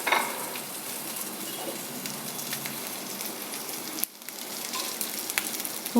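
Dried red chillies fry in hot oil after urad dal for a raw plantain erissery, a soft continuous sizzle with light crackles, briefly dipping before resuming, no talk.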